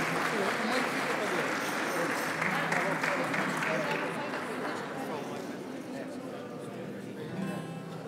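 Warm audience applause for the Grupo de Janeiras da Senhora das Boas Novas de Mazareves, a janeiras singing group at a gathering in Abelheira, a dense steady wash of clapping with crowd chatter mixed in throughout.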